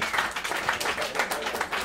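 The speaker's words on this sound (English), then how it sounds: "Clap your hands for everybody you saw." A comedy club audience at a roast night claps steadily, a dense wash of hands at moderate distance with no voices on top.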